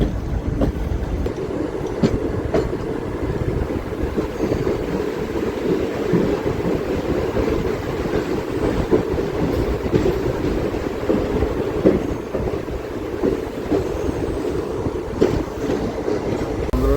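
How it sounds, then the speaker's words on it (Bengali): A passenger train pulling out of Chapaimukh Junction on the Guwahati to Ledo line, heard from inside as a continuous loud rumble with rhythmic wheel clatter on the rails throughout. "2 মিনিট হল্টের পর আমাদের এই ট্রেন এখন চাঁপাইমুখ জাংশন থেকে ডিপার্চার করে নিল।"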